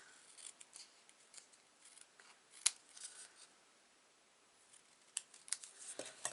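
Scissors cutting paper while shaping pages for a Graphic 45 Imagine mini album: a few faint, crisp snips and rustles, close by and quiet, with no talk.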